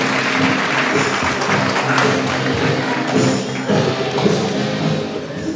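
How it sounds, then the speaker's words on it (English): A crowd at an international public speaking championship bursts into dense, loud applause to welcome a speaker, with the clapping sustained throughout and fading slightly at the end. "please welcome him with a huge round of applause"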